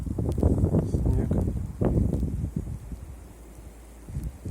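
Wind blows during a heavy snowstorm in a winter forest, buffeting and roaring in uneven gusts close to the microphone, with a person talking underneath.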